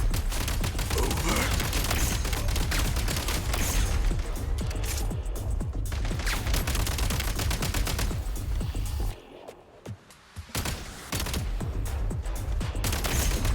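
Rapid assault-function gunfire in Genshin Impact's Snezhnaya Archon Quest, loud dense bursts of shots rattling almost nonstop, with a brief lull past the midpoint before the firing resumes.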